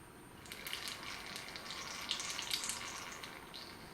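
Air bubbles gurgle and splutter out of the top outlet of a water cooling loop on a DIY mini CNC machine, a steady close watery bubbling with brief louder pops.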